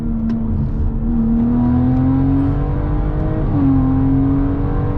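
A BMW car accelerating hard, its engine revving in a loud, continuous drone whose pitch climbs steadily, dips briefly at a gear change, then climbs again. No one speaks.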